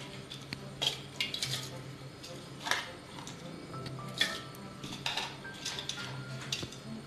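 Rice tipped into a pressure cooker for a quick beef mandi, giving a few scattered clinks and rattles against the metal pot, close up with no talking.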